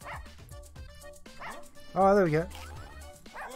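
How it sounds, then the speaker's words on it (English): A dog in Russian Subway Dogs gives short barks and yips, with one longer, louder whining bark in the middle, over game music and a person talking. "Barking depletes my stamina, eat to refill it."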